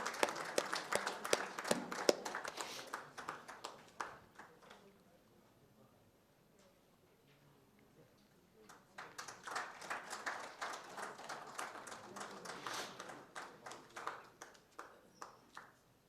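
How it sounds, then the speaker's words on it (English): Audience applause at an engineers' award function, a burst of clapping that fades after a few seconds, then a second wave of clapping rises and carries on steadily before tapering off. "Ladies and gentlemen, a big round of applause for Dr. Pandit"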